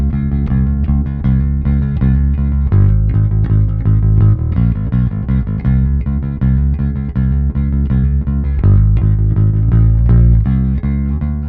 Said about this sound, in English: Bass to amp, amp's DI box to the mixer.